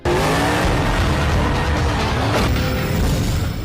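Cars race flat out through a Fast and Furious 4 film scene, loud, dense roaring engines with revving and tire squeal, continuous and close, with no talking.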